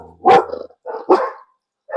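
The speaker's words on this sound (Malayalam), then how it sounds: "ലൂണ അവിടുന്ന് സിഗ്നൽ കൊടുത്തു കുരയ്ക്കുന്നതിൻ്റെ." Dogs bark in sharp, loud bursts close by, two or three quick barks separated by short pauses, with no voices over them.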